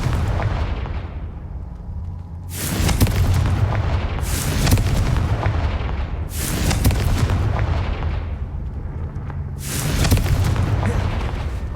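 Repeated Confringo blasting-curse explosions in Hogwarts Legacy, three loud booming bursts a few seconds apart with rumbling tails, over a steady low game background.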